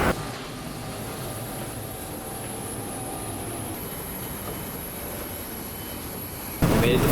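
Steady, loud cabin drone of a passenger airliner in flight to France, a broad continuous roar with a faint high whine holding throughout, ending in a brief louder burst.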